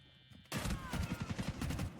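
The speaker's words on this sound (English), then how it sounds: "as more bullets start to pepper their way through" Rapid gunfire in a competitive esports match bursts in after a half-second lull, a dense, loud volley of repeated shots pulsing steadily to the end.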